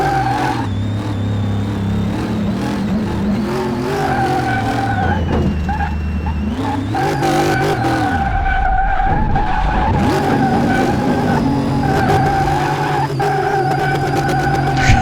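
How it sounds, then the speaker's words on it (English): A car in the video game Car Mechanic Simulator 2018 spins its wheels under power, with a loud, continuous tire squeal and skid over a revving engine that rises and dips, without any talk. "And I put in the power and the tires smoke."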